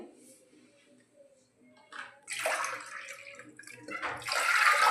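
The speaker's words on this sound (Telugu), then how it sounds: "ఇప్పుడు ఇదే కప్పుతో నాలుగు కప్పులు వాటర్ అయితే పోయాలండి" Water poured by the cupful into a pot for ragi mudda, a faint start that swells into a fuller splashing pour in two bursts, the second louder and sustained, with no speech.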